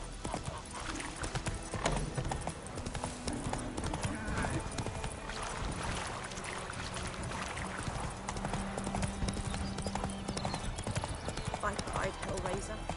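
Horse hooves clip-clop steadily in The Witcher 3 video game, a brisk continuous trot under voices speaking throughout, with a faint whinny in the mix.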